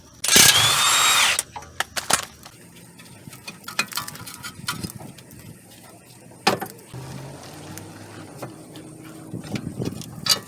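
A power tool whirs in one loud burst of about a second, backing out the 17mm bolts on a Honda Accord brake caliper, then gives way to scattered clicks and knocks of hand work.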